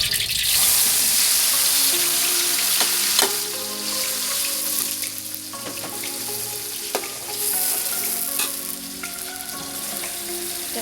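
Dried chilies and bird's eye chilies fry in hot oil for rendang, giving a steady close sizzle with light clinks and stirring scrapes throughout, and no one speaks.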